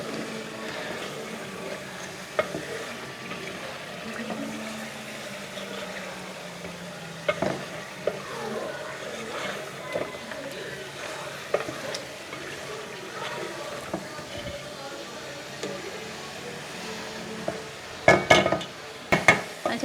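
Masala fries in oil in a pan for a turai (ridge gourd) curry, a soft, steady sizzle broken by occasional spoon scrapes and stirring clanks, growing busier with clattering toward the end.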